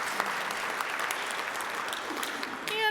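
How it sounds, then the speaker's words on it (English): Audience at a Rotary club meeting applauding steadily for about three seconds, a dense even patter of many hands that ends with a voice starting up at the close. "You can clap about that."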